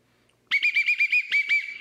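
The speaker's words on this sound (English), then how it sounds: "Why'd you blow the whistle?" A shrill whistle is blown in one short burst of rapid trilling pulses, loud and close, after a moment of near silence.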